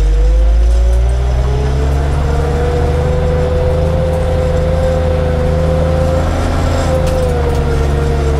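A Volvo TL 22 military truck pulls off with its engine and gearbox working hard, a loud, close, steady diesel drone with a whining gear tone that rises and dips. No one speaks.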